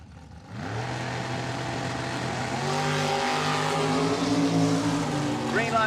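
A 1967 Camaro nitro funny car at a drag strip, its engine roaring in sustained and rising throughout, with an announcer talking over it.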